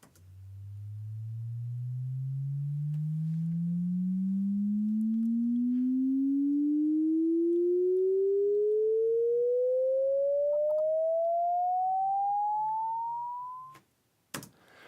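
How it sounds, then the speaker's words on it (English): A pure synthetic riser tone from Logic Pro's Test Oscillator sweeps steadily upward in pitch for about fourteen seconds, loud and smooth, then cuts off with a short click. "So here is the riser."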